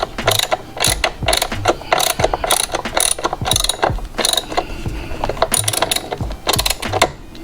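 A ratchet tightens a fitting while a CTEK battery charger is hardwired on a BMW: close, crisp clicking in rapid repeated bursts, with brief pauses between strokes and no talk.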